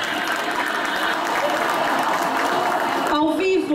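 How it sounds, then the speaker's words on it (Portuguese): Guests at an anniversary gala for a Portuguese-speaking church in Gatineau break into a big round of applause, dense continuous clapping that cuts off near the end as a voice begins speaking. "A grande salva de palmas!"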